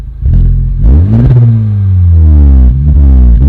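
A Honda FL5 fitted with a Spoon Sports N1 exhaust and the factory downpipe revs to about 4,000 rpm. It gives a loud, deep, rising engine note that holds, settles briefly, then flares again, close up and with no talk.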